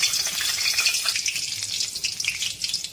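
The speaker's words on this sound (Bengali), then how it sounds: "তেজপাতাটা দিয়ে দিচ্ছি" A bay leaf sizzles in hot oil as a steady, close frying hiss with crackling pops, the first step of a Bengali chicken curry with milk.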